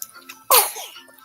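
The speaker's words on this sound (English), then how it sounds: "He's the sneezers." A young boy gives a single sharp sneeze, close and fairly loud, with a faint breathy tail and quiet background before it.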